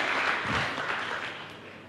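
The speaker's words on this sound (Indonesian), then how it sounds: "Berikan tepuk tangan yang meriah buat Tuhan." A church congregation applauds in praise, a dense, moderately distant wash of clapping that starts at full strength and gradually thins out over about two seconds.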